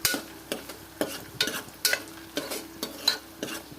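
Pieces fry in hot oil in a pan for Kerala-style kalathappam, with a continuous crackling sizzle broken by regular, rhythmic scraping strokes of a stirring spoon, close and moderately loud with no talking.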